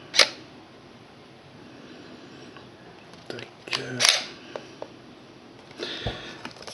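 Photo camera clicking as its settings are adjusted for light painting, a few sharp close clicks and small handling taps against a quiet background hiss, with no talk.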